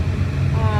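A safari tractor idles nearby at an open-air park service point, its engine a steady low rumble.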